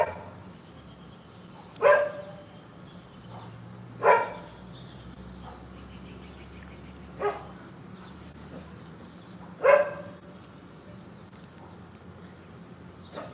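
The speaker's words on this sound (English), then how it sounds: "Damn, these dogs, man, they pissing me off." Dogs bark outdoors, a few sharp, separated barks spaced several seconds apart over a low steady background hum, moderately close, with no talking in between.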